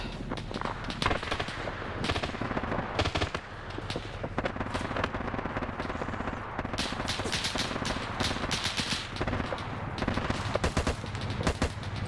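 In a video game battle on Raate Road, a tank turret's DT machine gun fires on advancing infantry, with continuous rattling bursts and scattered distant shots overlapping throughout, no speech.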